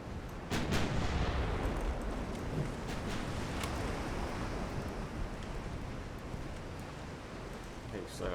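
Naval 7-inch guns fire in Ultimate Admiral Dreadnoughts, a few sharp booming blasts over a constant rumbling wash like surf, with distant reports scattered through the stretch.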